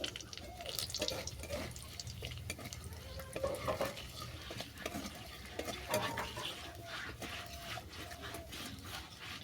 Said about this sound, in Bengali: এই তেলের মধ্যে দিয়ে দিচ্ছি শুকনো লঙ্কা ফাটিয়ে দিলাম দিয়ে দিলাম তেজপাতা আর দিয়ে দিচ্ছি ফুটে নেওয়া গোটা গরম মশলা